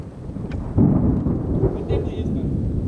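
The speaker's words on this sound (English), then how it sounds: "That was thunder." Thunder rumbles low and steady ahead of a thunderstorm at an outdoor fishing spot, a continuous distant roll that swells slightly after the first second, with no voices.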